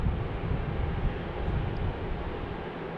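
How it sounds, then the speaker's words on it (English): Airbus A321 airliner taxiing toward the gates at Salt Lake City airport, a steady broad jet rumble and hiss heard from a distance, continuous and unchanging with some wind noise, no talk. "There's our Airbus 321 making its way into Concourse A on the even gates here on the south side."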